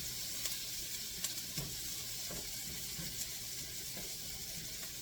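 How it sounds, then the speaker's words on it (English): Whole onions sweat in a pan with a steady, quiet sizzle and hiss, broken by a few faint pops and crackles, with no voices. "Throw in my whole onions. I've never sweated onions before."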